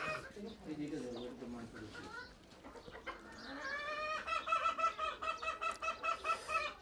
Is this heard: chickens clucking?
yes